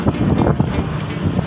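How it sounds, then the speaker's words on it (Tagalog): Strong wind on Gigantes Island, Carles, Iloilo, buffets the microphone in a steady, roaring rush with gusty low rumbles throughout. "Ngayon, ang lakas ng hangin dito."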